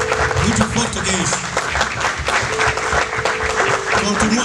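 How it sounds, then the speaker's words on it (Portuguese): Church congregation applauding steadily in a shower of claps at a ministry school gathering, with music tones and voices running underneath throughout. "Continua assim para bater as palmas."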